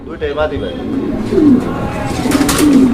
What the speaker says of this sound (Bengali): এখানে চমৎকার একজোড়া কবুতর আছে